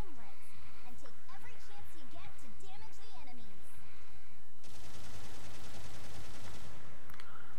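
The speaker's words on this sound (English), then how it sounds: "20 shots is what it takes to stun a Zoc, apparently." Rapid automatic weapon fire from a mobile suit in Gundam Battle Operation 2 rattles as a steady, dense burst in the second half, following busy game sound effects with voice chatter in the background.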